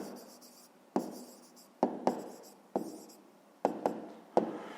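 Handwriting with pen on paper while working a fifth-grade math exercise, a series of sharp taps and short scratching strokes in irregular bursts, close and quiet.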